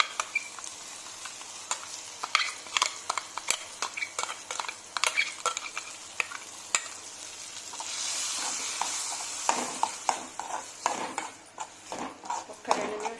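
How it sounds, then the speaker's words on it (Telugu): A ridge gourd and green chilli paste fries in a hot tempering of onion and garlic, with repeated sharp scrapes and taps of a spoon stirring the pan over a soft sizzle, fairly quiet and close. "ఒక్క 2 నిమిషాలు ఇలా తిప్పుతూ ఉండాలండి, మాడకుండా."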